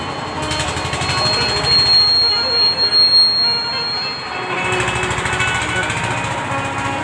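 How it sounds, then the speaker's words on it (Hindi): A tractor engine runs nearby at a village religious gathering, a loud continuous rattling drone with a throbbing low pulse that persists throughout the clip. "ये ट्रैक्टर बाद में चला लेना, थोड़ा सा बंद करवाओ इसे"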